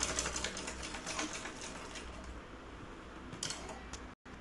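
A sewing machine stitches blouse cloth in quick, even ticking bursts, fairly close, pausing briefly near the end before one short restart.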